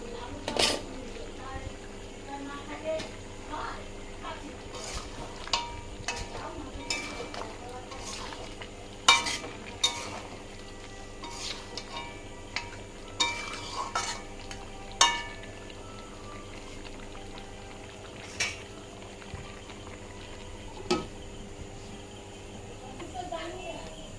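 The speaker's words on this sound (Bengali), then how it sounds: "চা বানাচ্ছি তো চলুন চা বানাই দুজনে খাওয়া যাক দেখি একটু নেড়ে দিই" Tea being stirred in a pot on a home stove, with scattered light spoon-and-vessel clinks and scrapes over a steady low hiss, while people talk nearby.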